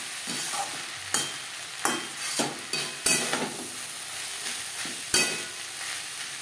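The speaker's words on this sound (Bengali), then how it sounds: "বরবটির সাথে বেশ ভালো করে মিক্স করে দেব।" Stir-frying yardlong beans with salt and slit green chillies in a pan: soft sizzling under repeated scraping and clacking stirs of a spatula, close by and moderately quiet, with no talk.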